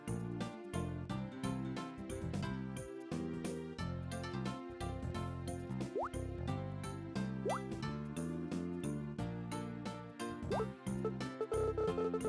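A watering can watering crops in the Harvest Moon: Tale of Two Towns video game, repeated plopping drips mixed into a steady backing of game music, faint and regular.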